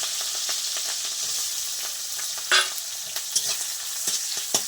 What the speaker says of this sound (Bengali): পেঁয়াজটাও হালকা ভেজে নেবো